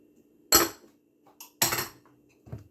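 A spoon clinks and scrapes against a bowl while lasagna filling with parsley and two eggs is stirred: two firm clattering strokes, then a lighter tap, close and fairly loud over a faint steady hum.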